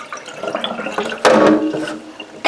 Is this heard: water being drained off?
yes